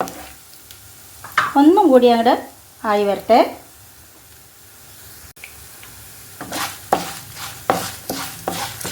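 Spices roasting and being stirred in a pan for Udupi sambar give a dry sizzle with scraping stir strokes, clearest in a burst of rhythmic scrapes near the end, after a stretch of talking over quieter frying.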